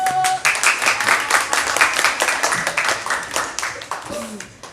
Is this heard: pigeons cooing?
no